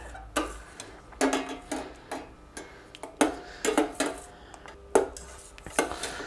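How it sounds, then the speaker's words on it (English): A spoon stirs melting soy wax in a pot during candle making, giving a run of sharp clicking and tapping knocks against the pot's sides, irregular and close, with quiet gaps between the strokes. "Give it a good stir before you stick the thermometer in."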